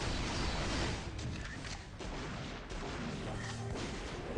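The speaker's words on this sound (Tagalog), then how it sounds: "Oh, grabe na putok yun par." Heavy gunfire blasts boom through the Cabal online video game as a dense, loud, almost continuous barrage of explosive shots lasting several seconds.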